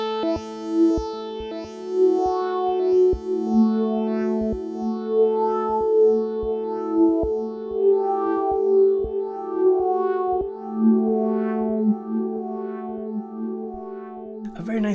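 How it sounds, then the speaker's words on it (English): A bright, evolving synth pad made from a Mother 32 one-shot sample pulses in a repeating rhythmic pattern with shimmering high overtones, playing continuously for the whole stretch. "Very nice synth sound that actually started with a one-shot sample from the Mother 32."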